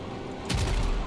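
A sudden burst of gunfire in the video game Warframe erupts midway, a heavy booming volley following a quieter stretch of ambient game noise.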